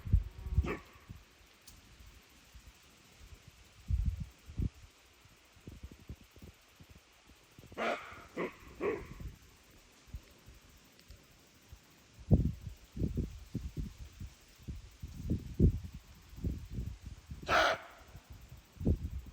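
A deer barks in alarm at goats on a Portuguese homestead, a few sharp, fairly distant calls standing out among scattered outdoor noises and rustles.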